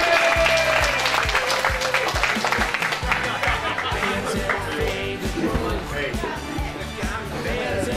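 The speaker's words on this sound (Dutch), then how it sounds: "applaus voor Martijn en voor Driemasten" Applause at a youth futsal tournament awards ceremony, clapping blended with music and crowd chatter, loud and continuous throughout.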